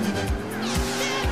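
In GTA IV, an Emperor car's engine revs as its tyres squeal and skid, loud and close, with a few sharp engine pitch swoops over the short stretch.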